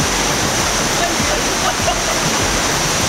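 Mag-Aso Falls in Antequera, Bohol, gives off a loud, constant rushing roar of falling water close at hand, broad and unbroken, with no voices.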